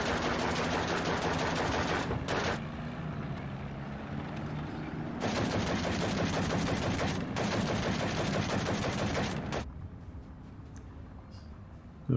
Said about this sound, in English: And the T-34 has a few shots at the retreating Germans.